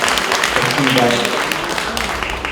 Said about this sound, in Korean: 홍선혜 아나운서에게 다시 한번 감사의 박수 부탁드리겠습니다